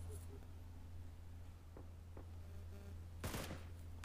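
VSS rifle fire in a shooting video game: a few faint, distant pops in the middle, then a louder burst of shots near the end, all over a steady low hum.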